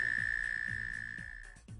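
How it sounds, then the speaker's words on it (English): A male frog croaks in short repeated low pulses, roughly every half second, over a steady high-pitched insect-like trill, close and fairly quiet. "The male frog will croak in order to attract female frogs for breeding"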